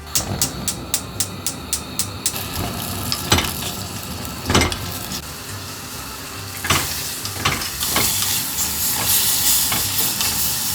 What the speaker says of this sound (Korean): 마지막으로 다진 마늘 넣고 볶아줍니다.